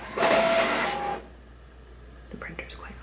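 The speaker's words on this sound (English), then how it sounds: "The printer's quite loud." A loud printer runs for about a second with a whirring mechanical buzz and a thin whine, then stops, leaving quiet room tone and a few faint soft noises.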